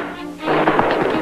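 Gunfire from a nearby quiet village, heard as a quick run of muffled, distant bangs over a noisy, rumbling background, with no voices.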